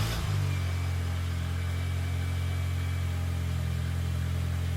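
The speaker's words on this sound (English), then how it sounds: "We can then start the car for the first time," A Mini Cooper fitted with a new coil pack cranks briefly and catches, then settles into a steady, close idle hum with no talking.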